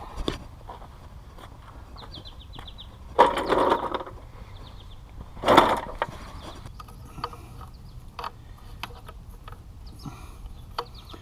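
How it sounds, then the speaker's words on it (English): Hand tools work the rear axle nuts on a KTM 690 motorcycle, giving two short, loud metallic bursts a couple of seconds apart over a quiet background with faint clicks. "I'm gonna loosen the rear axle and the nuts"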